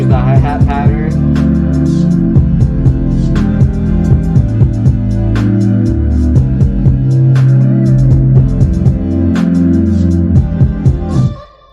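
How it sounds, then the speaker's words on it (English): A hip-hop beat with a boosted sub bass and a reworked hi-hat pattern plays loud and continuous for about twelve seconds, with crisp rapid hi-hat ticks over deep bass, then cuts off at the end. "I changed the hi-hat pattern."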